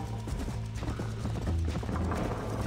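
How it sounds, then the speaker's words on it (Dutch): Horse hooves clip-clopping in the video game Red Dead Redemption Remastered, a steady, rapid rhythmic trot heard close and loud over a continuous game backdrop. "Je moet niet te hard gaan met het paard."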